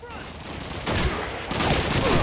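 Gunfire rattles through a Call of Duty 2 battle, dense overlapping shots that swell louder about halfway through and stay heavy to the end, with no clear voices.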